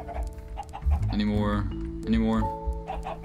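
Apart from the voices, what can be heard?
chickens clucking in Minecraft video game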